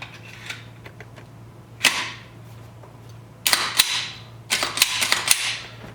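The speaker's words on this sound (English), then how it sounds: "Hold your trigger to the rear and cycle the slide." A Glock pistol fitted with a Glockkraft trigger is put back together, with a few sharp metallic clicks early on, then loud close snaps as the slide is racked and the trigger dry-fires, all without talk.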